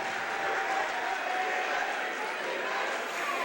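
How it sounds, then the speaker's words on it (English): Basketball crowd in a school gym at a WPIAL 5A quarterfinal applauding the Mustang defense, a steady broad wash of clapping and crowd noise held at an even level throughout, close and filling the whole moment. "Mustang defense being applauded."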